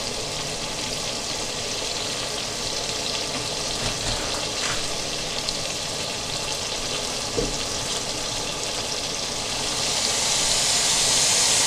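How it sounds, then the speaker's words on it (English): About a liter of water poured into a simmering sauce makes a steady, close hissing and sizzling rush for the whole stretch, growing brighter near the end, with no talk. "I'm going to add about 1 liter of water as well"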